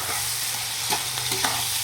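Capsicum and onion fry with egg in a pan, a steady close sizzle broken by soft scraping stirs, with no voices.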